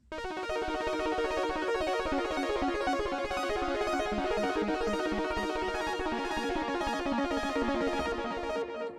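Dense Analog Lab synth lead sample with an added arpeggio, rapid repeating notes racing over a sustained chord progression, bright and continuous at an even level throughout, with no voices.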